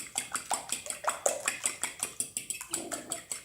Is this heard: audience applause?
no